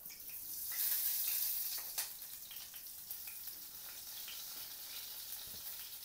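Cumin seeds frying in hot oil for a groundnut chutney give a steady, close hiss of sizzling, briefly louder near the start and then settling into an even crackle with a few stirring clicks.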